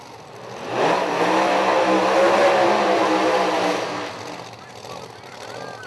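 A Proline electronically fuel-injected Pro-Charged drag racing engine roars loudly at a Lights Out drag event, a broad sustained blast that swells for about three seconds and then eases into a lower rumble.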